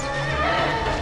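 A horse in the video game Shadow of the Colossus neighs loudly and close, a drawn-out whinny filling the whole second, with faint hoof clip-clop underneath.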